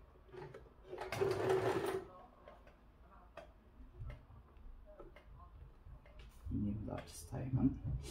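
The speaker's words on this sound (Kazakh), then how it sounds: "Енді осы сызықпен біз тігіп шығамыз." A sewing machine stitches along a drawn line on fabric in a brief loud run of rapid mechanical ticking, then falls quiet; a voice speaks faintly around it and a short second burst of stitching follows near the end.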